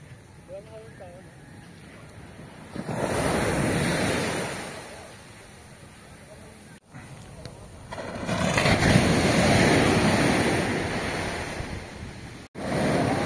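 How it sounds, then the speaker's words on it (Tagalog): Small beginner-sized ocean waves roll onto a beach in Sorsogon, two long swells of surf rising and fading over about thirteen seconds, with wind buffeting the microphone between them. "May konting waves pang beginners lang yan."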